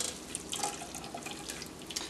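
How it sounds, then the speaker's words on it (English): Mulberry juice being squeezed and dripping through a strainer, soft irregular wet drips and trickles close up, quiet and steady without speech. "And then you're just squeezing the juice through here to get a lot of some of the pulp and the seeds out."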